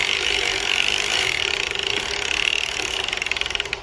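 A hand-cranked sock knitting machine is turned with waste yarn on its needles, making a steady close mechanical whirr that gives way to an even, rapid ratcheting tick as cranking continues.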